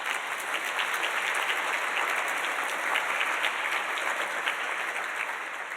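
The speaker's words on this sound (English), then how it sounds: "So let's give ourselves a round of applause on that." Faculty and staff at a school address applaud themselves, a broad, continuous crackle of many hands clapping at moderate volume that tapers slightly at the end.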